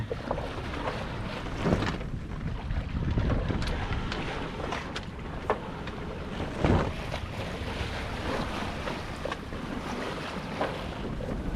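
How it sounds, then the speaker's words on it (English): Steady rushing of wind and water around a sailboat motoring offshore under electric motor, with splashes and gusts buffeting a microphone and no voices. "Not sailing, we're just motoring. Got the electric motor going."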